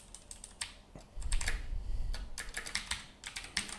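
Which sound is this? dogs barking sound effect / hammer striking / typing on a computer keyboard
typing on a computer keyboard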